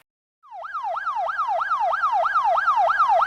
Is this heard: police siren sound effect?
yes